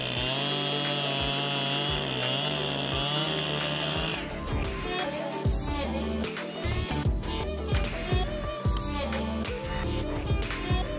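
A powerful professional Echo chainsaw cutting wood opens with a steady, high, loud engine whine, then drops into a rougher, fluctuating snarl as the chain bites through the log, close and continuous.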